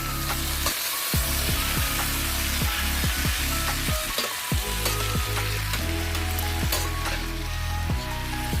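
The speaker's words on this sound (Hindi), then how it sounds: "इसलिए उसको थोड़ा सा 2-3 मिनट उसको ऐसे ही मसाला में फ्राई करना है।" Chhachindra sizzles steadily as it fries in ginger garlic masala, with a loud, close, continuous crackle broken by regular scraping stir strokes and no talking.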